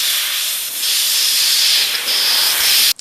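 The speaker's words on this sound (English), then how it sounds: "this little air sander is a very handy tool, and it's also a dual action air sander besides its size" Dual action air sander running steadily with a loud, continuous high hiss, close up and alone, cutting off abruptly at the end.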